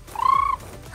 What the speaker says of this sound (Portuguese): Arara! Como é que ela faz?